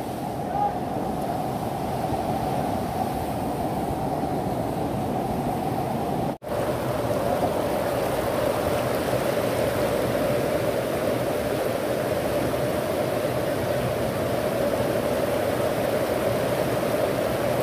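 A waterfall in Tamhini Ghat roars as a dense, steady broadband rush of falling water, loud and continuous, with a momentary dropout partway through.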